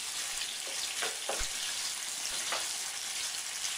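Mutton liver fries in hot oil, a faint, even hiss of sizzling with a few soft stirring scrapes and taps, no voices.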